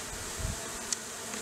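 Honeybees held in a mason jar capped with number 8 hardware cloth give off a faint, steady buzz, with a brief sharper flutter near the middle and soft low bumps from handling.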